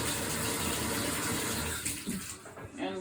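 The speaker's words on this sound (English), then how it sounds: "Put it up under some running water." Running water streams steadily from a tap over an item being cleaned, a loud close rush that thins and splashes unevenly near the end.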